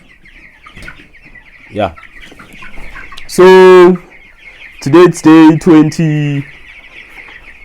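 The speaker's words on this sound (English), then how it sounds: "Out here in the house to check our chicken out." Broiler chickens inside a South African chicken house give loud, close clucks and squawks in irregular bursts, with someone talking briefly alongside them.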